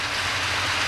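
Rain in a cartoon, a dense, steady hiss of falling water that is fairly loud and even throughout the brief moment, with no voices.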